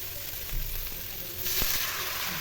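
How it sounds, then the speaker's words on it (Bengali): Cumin seeds crackle and pop in hot oil with a steady near sizzle, a few sharp snaps standing out and the hiss growing brighter halfway through. "এই জিরা ফাটি হয়ে গেছে"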